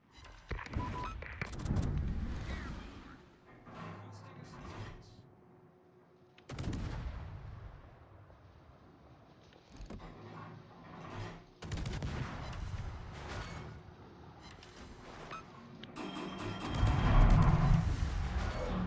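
Heavy naval gun salvos fired in World of Warships, booming in several loud bursts spread across the span, each with a rumbling tail and a cluster of blasts near the end, plus faint talk.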